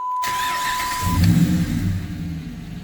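A 2007 Dodge Ram 1500 with a HEMI engine cranks and fires up close by, settling into a steady rumbling idle after the start, with no talking over it.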